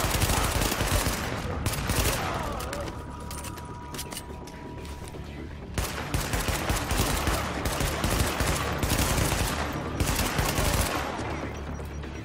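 Rapid gunfire rattles in The Division on PC, loud, dense bursts of automatic fire and mechanical clatter running almost without break, with a short lull near the middle before the shooting resumes.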